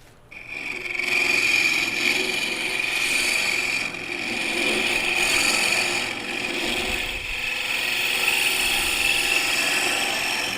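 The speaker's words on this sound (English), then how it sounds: "instead of back hollowing this one, I'll just do it all with the carbide" Carbide tool hollowing out a turned wood piece on a lathe gives a steady, loud, continuous scraping rasp with a sharp tonal whine, running unbroken with slight dips in intensity.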